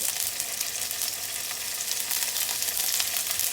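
Tofu browning in a pan as a step toward char kway teow, a steady dense sizzle of frying that holds constant and fairly loud throughout, with no voices.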